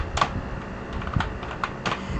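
Keys clatter on a computer keyboard as a name is typed into a census self-enumeration form, with a few irregular bursts of clicks spaced across a quiet room.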